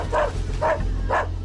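Three sharp dog barks at an even pace, fairly near and loud, over a steady low hum with no talking.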